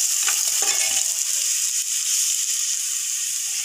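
Coriander powder being stirred into hot oil in a pan for a ridge gourd stew, a steady close sizzle and hiss with a few soft scraping strokes of a spoon early on, no voices.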